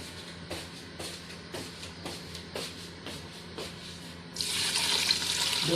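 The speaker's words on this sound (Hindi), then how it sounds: "अब मैं इसके अंदर डालूंगी तकरीबन 2 किलो पानी" Water running from a tap fills a pot for cooking daliya, a hissing gush that starts after a few seconds of light kitchen clatter and knocks and continues steadily to the end.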